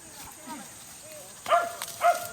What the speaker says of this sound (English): When it barks like that, it knows it's that one there.